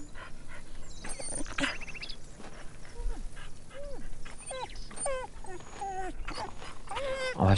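A dog in the farming video game Farmer's Dynasty whimpers and yelps in a series of short, rising whines spread across several seconds, close and moderately loud over a low background hum.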